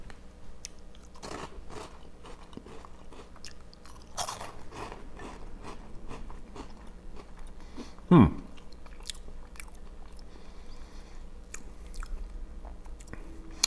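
Someone bites and chews Moroccan Ronchos Frites, a barbecue-flavoured corn snack shaped like little fries, making quiet, scattered crunches with one sharp, louder crunch partway through and no talking.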